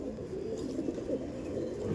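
Imported Giribaj pigeons coo softly and continuously in low, rolling murmurs, close by and steady, with no voices over them.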